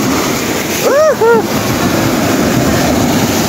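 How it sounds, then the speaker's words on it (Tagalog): Steady broadband rush of strong ocean surf and wind fills the clip, with a brief rising whistle-like tone near the start; no talking. "Wow, lakas ng alon guys."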